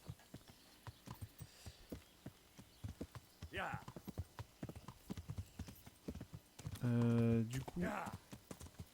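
Horse hooves clip-clop at a steady walking pace in the medieval video game Kingdom Come: Deliverance, close and fairly quiet, with someone talking over much of it and a short horse whinny near the end.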